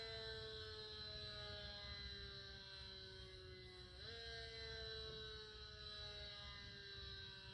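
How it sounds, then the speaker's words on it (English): A civil defense siren sounds over Chicago, a sustained wailing tone with stacked harmonics that holds steady, dips briefly in pitch midway, then resumes, loud and continuous against a low rumbling background. "likely a siren"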